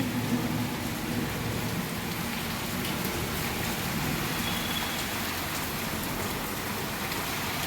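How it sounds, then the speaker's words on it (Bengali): Heavy rain pours down during a cyclone, a dense, unbroken roar of drops hammering on surfaces close by, steady and loud throughout with no voices. "বৃষ্টি এখনো পড়ে আছে ঝমঝমিয়ে"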